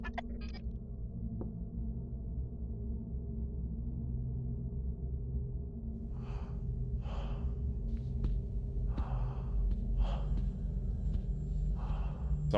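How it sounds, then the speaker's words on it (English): Breathing in the horror game Try To Sleep: a low droning hum, then a series of slow, audible breaths and gasps repeating in the second half, close and without speech. "Someone is breathing."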